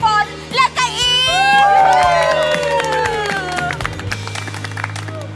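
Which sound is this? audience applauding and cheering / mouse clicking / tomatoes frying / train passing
audience applauding and cheering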